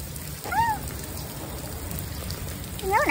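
Steady rain falls around the listener, a soft continuous hiss with low patter, while brief high chirps come and go and faint voices stay in the background.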